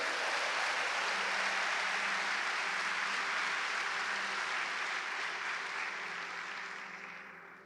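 A church congregation applauds in a sustained, even wash of clapping that fills the room, holding steady for several seconds before gradually fading out, with no talk over it.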